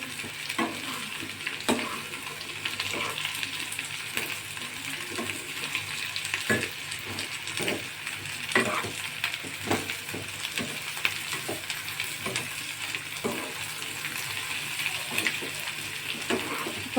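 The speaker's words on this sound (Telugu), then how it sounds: "కొంచెం పొట్లకాయ ముక్కలు వేసి ఇలా ఉల్లిపాయ ముక్కలు, పొట్లకాయ ముక్కలు ఇలా కలుపుకోవాలన్నమాట." Bottle gourd and onion pieces are stirred in a pan for a curd curry: a continuous low sizzle broken by regular spatula scrapes and knocks against the pan, with no speech.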